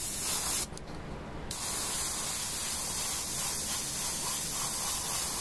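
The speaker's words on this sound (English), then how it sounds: "Then no reason to rush with the airbrush." An airbrush sprays paint in an overall shade coat on an Adeptus Mechanicus Dune Crawler miniature, making a loud, steady close-up hiss that briefly drops early on, then resumes and runs continuously to the end, with no voices.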